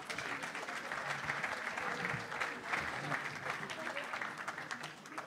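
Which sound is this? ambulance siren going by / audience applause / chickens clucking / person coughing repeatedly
audience applause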